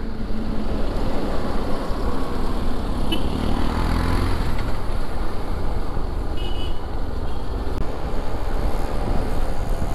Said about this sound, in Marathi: आज वाटतं सगळीकडे ट्रॅफिकच आहे.